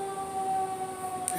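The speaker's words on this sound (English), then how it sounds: "So the sirens are going off for y'all." Fire truck sirens sound faintly from a distance, a steady sustained wail holding throughout the short stretch with no talking over it.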